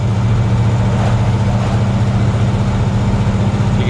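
A restored 1963 Plymouth Belvedere with a 426 Max Wedge engine, solid lifters and carburetors, cruising gently; a steady, loud, low engine rumble with an even pulsing rhythm runs throughout, with no talking.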